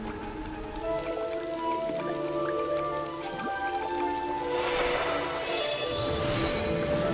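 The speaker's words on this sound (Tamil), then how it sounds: "மழை வருது" Steady rainfall in Genshin Impact, a soft continuous patter of drops filling the scene at moderate level, with sustained game music tones layered over it and the rain thickening toward the end.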